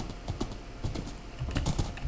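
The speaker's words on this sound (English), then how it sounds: "at least I have got a super fast horse now" Horse hooves clip-clop in Minecraft as a fast horse is ridden over treetops, a steady run of quick, close, moderately loud footfalls with no talking.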